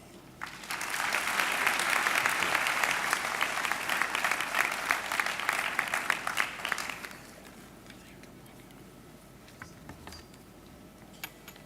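Applause from a graduation ceremony audience at a university campus, a dense sustained clapping that swells quickly, holds steady for several seconds, then cuts off to a quiet hall with a few scattered claps.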